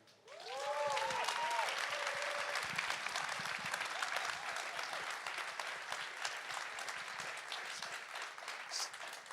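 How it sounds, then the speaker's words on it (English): Conference audience at a security event gives a sustained round of applause, dense clapping that swells quickly and holds steady with a few cheers at the start. "I just want a big round of applause, if we can do that, for all the organizers this year."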